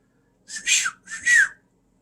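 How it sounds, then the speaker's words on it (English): A small handheld whistle is blown twice in quick succession, two shrill, close, fairly loud blasts about half a second each, with a short gap between them and silence around them. "Got a little whistle."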